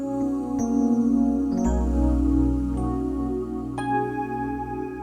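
Rich sustained keyboard chords ring out alone, a few notes struck in succession and left to blend into a warm, full lingering tone, moderately loud and close.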